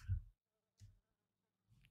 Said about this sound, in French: Il y a des mouches. J'entends des mouches.